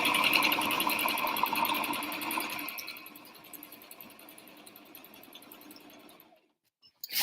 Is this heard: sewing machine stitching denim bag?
yes